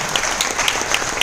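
An audience at a motivational speech event breaks into brief, dense clapping, loud and close, with no talking over it.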